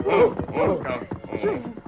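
Horses approaching a ranch in an old radio drama, rhythmic hoofbeats and whinnying coming closer in a short burst, with voices mixed in.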